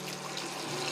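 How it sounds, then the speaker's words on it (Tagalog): Bulalo beef bone broth poured into a pot, a steady, soft, continuous liquid splash and trickle with no voices, heard over about a second. "So, ato na iabong ato sabaw sa bulalo."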